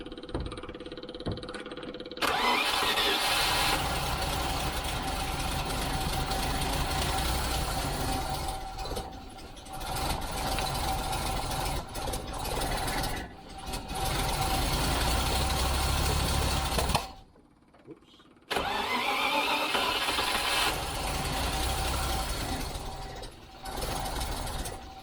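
A Range Rover engine, just tuned at the distributor, cranks and runs in a rough, uneven chugging drone close by, cutting out briefly and catching again before settling into a knocking idle.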